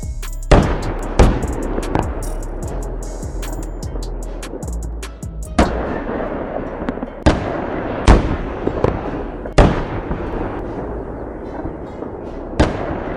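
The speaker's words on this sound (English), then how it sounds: "A column of 5 tanks advanced directly into a minefield, triggering a series of explosions." A column of five tanks advancing into a minefield sets off a series of explosions, loud sharp blasts spaced irregularly over a continuous rumbling background, with a dense cluster early on and single booms later.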